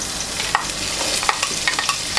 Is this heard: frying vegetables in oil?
yes